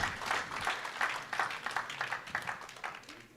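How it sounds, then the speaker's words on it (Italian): Audience applause fills a hall at a Veneto Paralympic sports awards gala honoring a Paralympic slalom medalist: a dense, steady wash of many hands clapping at moderate distance, swelling and easing slightly before thinning toward the end. "Facciamo un grande applauso per René De Silvestro."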